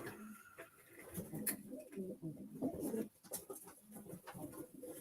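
Pigeons cooing in a loft during a racing pigeon auction presentation, soft repeated low coos and rustling nearby, faint and continuous with no clear speech.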